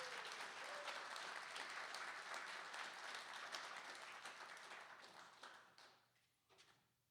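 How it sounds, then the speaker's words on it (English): Sustained applause from an audience, steady and full for several seconds, then thinning out and fading to a few scattered claps. "How about a nice round of applause for Jeff Dagenhardt?"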